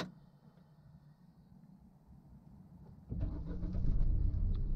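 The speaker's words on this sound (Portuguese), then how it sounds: "Ligando o carro" A Hyundai HB20 car engine starts during a driving lesson: quiet idle cabin hum gives way to a sudden low rumbling turnover as the motor catches and keeps running, close and steady.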